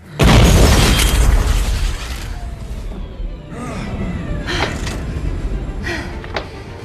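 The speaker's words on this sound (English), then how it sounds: "as Bane is about to finish Batman for good, he's shot and killed by Catwoman." Cannon shot in a Batman film as Catwoman fires on Bane: one loud, close boom at the start, followed by a long rumbling decay with faint scattered impacts and action noise trailing off.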